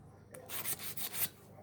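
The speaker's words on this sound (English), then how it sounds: "get some sandpaper and just get rid of" Sandpaper rubbing off old paint from a kitchen gadget being restored, a few quick rough strokes close by, lasting about a second.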